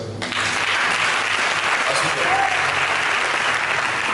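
A church congregation bursts into sustained, dense applause, a steady wash of many hands clapping together that fills the room for several seconds without a break.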